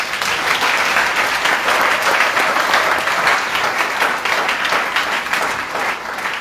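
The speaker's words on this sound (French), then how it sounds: "On peut acclamer le Seigneur." A church congregation bursts into loud, sustained applause to acclaim the Lord, a dense, steady wash of many clapping hands filling the room with almost no voices.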